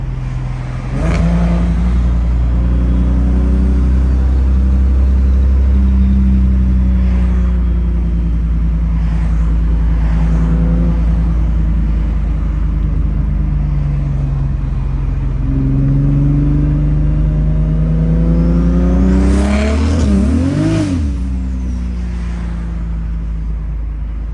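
A single-turbo N54 car engine hums and rumbles steadily with open-window road noise, rising in pitch as it accelerates, then a brief rev near the end.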